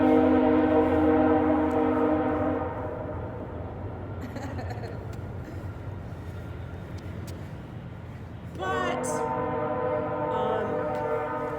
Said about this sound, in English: how distracting, that train.